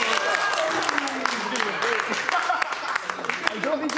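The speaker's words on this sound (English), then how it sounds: "the applause he got at the end from the rest of the group" Applause from a group of people at the end of a performance, a dense, steady patter of clapping lasting throughout, with voices talking over it.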